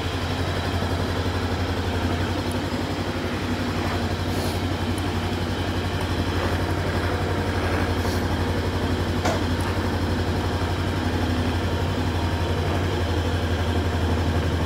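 A stock Bristol Venturi 500 motorcycle engine runs steadily with a low, even drone, fairly quiet and constant throughout, with no talk over it.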